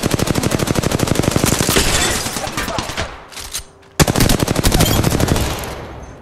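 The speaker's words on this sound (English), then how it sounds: "Is that the carbine you're using?" Loud, rapid automatic carbine fire in the video game Apex Legends, long sustained bursts with a short pause before another burst.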